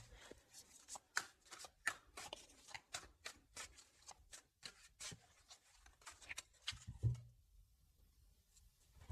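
Tarot cards are shuffled and drawn from a deck, giving a close, quiet series of riffling flicks and soft slaps in a steady rhythm, then a brief rustle before a short pause at the end.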